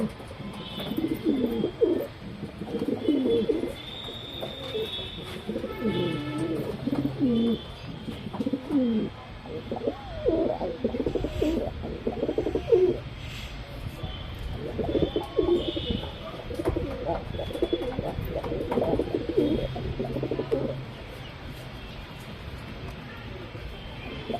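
Pigeons coo repeatedly in low, rolling phrases, including a male Kasni pigeon among birds offered for sale, with faint chirps and background noise throughout.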